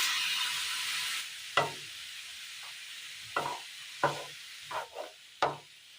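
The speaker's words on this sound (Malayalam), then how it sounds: "ഒരല്പം ചെറു ചൂടുവെള്ളം ഒഴിച്ചു കൊടുക്കാം" Warm water in a pan of jackfruit over a low flame gets stirred with a utensil, giving a faint sizzle and a series of distinct scraping strokes at irregular intervals.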